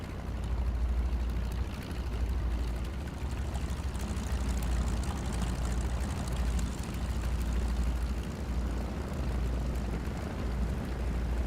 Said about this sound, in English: It's got the exhaust popping on the right-hand side.